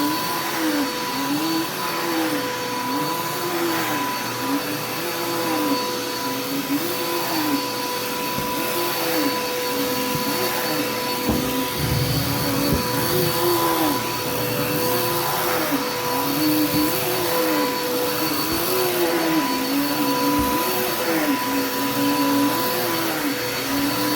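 A vacuum cleaner drones steadily across living room carpet sprinkled with freshener, its close motor whine holding constant while rhythmic swishes mark each back-and-forth push.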